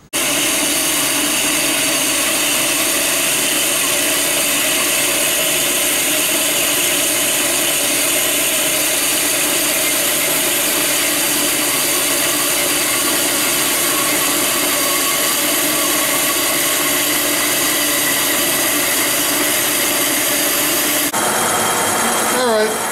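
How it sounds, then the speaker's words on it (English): A metal part is cut off on a saw in a workshop, giving a loud, steady mechanical whine and grinding that runs unbroken for most of the stretch before shifting abruptly near the end. "So I've cut it off in the saw"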